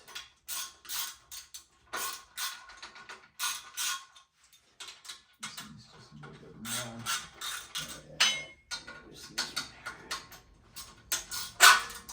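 A ratchet wrench loosens 19 mm bolts on a motorcycle during a rear shock and fork install, clicking in repeated rhythmic bursts up close, with metallic clanks of parts being handled in the later half.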